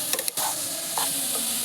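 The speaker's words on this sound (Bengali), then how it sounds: "নারকেলের সঙ্গে গুড়টা খুব সুন্দরভাবে মিশিয়ে নেব।" Grated coconut and jaggery are mixed in a pan for patishapta pitha, with a few brief scraping stirs over a steady, close background hiss.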